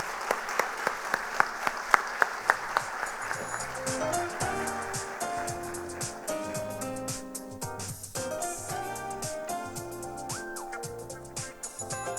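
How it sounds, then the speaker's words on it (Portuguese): Crisp applause breaks out for the honoree at a formal civic session awarding honorary São José citizenship, with sharp individual claps for a few seconds before music swells in and carries on. "Salva de palmas ao senhor, aos nossos antepassados e a todos vocês."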